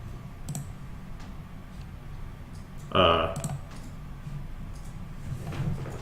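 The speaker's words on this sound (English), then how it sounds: "Are you just typing things up?" Soft keyboard typing clicks in a quiet room, with a brief louder burst of sound midway.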